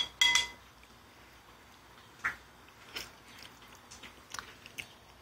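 A dog named Tucker eating split pea and kale soup from a dish, with a few close, sharp clinks against the bowl and soft lapping and chewing sounds between them, fairly quiet.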